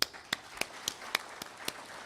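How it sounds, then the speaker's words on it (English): A few scattered, sharp claps spaced unevenly, not a full wave of applause, with a faint background hum, from an audience at a poetry mushaira in 2016. "They deserve a big round of applause."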